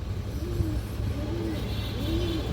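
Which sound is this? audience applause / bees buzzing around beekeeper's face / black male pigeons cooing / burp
black male pigeons cooing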